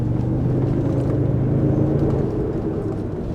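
A 2024 Toyota Sequoia TRD Pro rolls along an off-road trail at about 30 mph, giving a steady, dense low rumble of engine and tires on rough ground with no clear voices.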